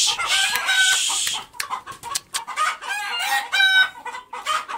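Roosters crow loudly up close while hens cluck in busy, uneven bursts, the calls overlapping for a few seconds with no talking.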